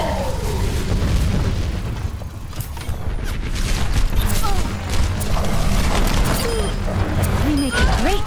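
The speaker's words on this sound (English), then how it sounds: "Rocket barrage incoming." A rocket barrage in Overwatch on King's Row, played on Xbox One, produces a steady run of booming explosions and pops. Scattered whooshes and game voice lines come through the blasts.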